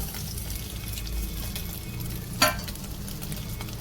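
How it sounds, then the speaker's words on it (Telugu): Steady sizzling of cashews and onion frying in a pan, with one brief scrape or stir partway through; no talking. "ఇప్పుడు కాజు ఒక ఇరవై ఒక ఆనియన్ వీటిని కూడా ఫ్రై చేసుకోండి"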